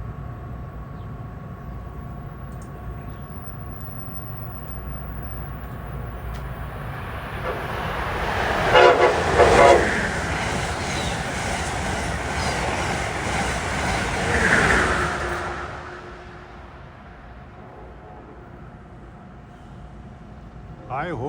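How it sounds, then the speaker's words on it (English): Slightly late passenger train 106, Washington to New York, approaches Princeton Junction: a rising rumble and rush swells to a loud pass with a brief horn-like tone, then fades, with people talking nearby. "440 approaching is a slightly late running 106 from Washington to New York"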